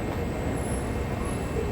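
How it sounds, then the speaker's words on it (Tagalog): Steady rumble of a train at MRT Bedok Station in Singapore, a continuous, even drone of rail noise throughout with no speech. "ito na yung MRT Bedok Station"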